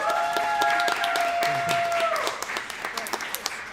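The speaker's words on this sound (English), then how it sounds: "give him a round of applause" Scattered applause from a school audience honoring a coach, mixed with tonal sounds and overlapping chatter, thinning into a few separate claps toward the end.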